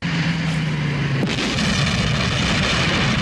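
A bomb explodes in a movie scene, with a sharp blast about a second in, layered over a continuous loud rumbling background.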